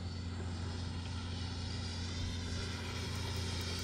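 Freewing F-16 90mm electric ducted-fan RC jet on an 8S setup flying at half throttle, a steady, continuous whine and rush held at even loudness throughout, alone with no talk.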